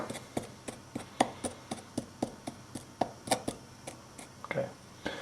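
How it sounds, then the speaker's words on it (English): A spoon crushes a Campden tablet into powder in a bowl during home fruit wine making, giving a close, steady series of short knocking and grinding taps, about two per second. "I'll just take a spoon here and crush this tablet"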